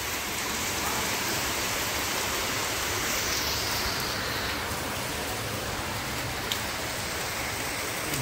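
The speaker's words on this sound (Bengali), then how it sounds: "এই বাইরে বৃষ্টি নেমে গেছে।" Heavy rain pours steadily outside, a dense, even hiss of drops on surfaces that stays loud and unbroken throughout, with no voices.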